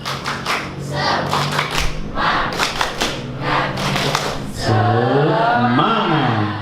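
A group of children performs a rhythmic spirit clap at a Quran learning class (TPA), sharp claps in quick patterned bursts mixed with chanting voices, ending in a sustained shouted cheer.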